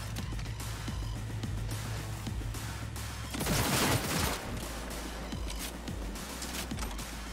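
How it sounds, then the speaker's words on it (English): A shotgun firing in Cyberpunk 2077 amid a rattling gunfight: rapid repeated shots over a constant low hum, with a louder burst near the middle, no speech. "It's not very good, the shotgun."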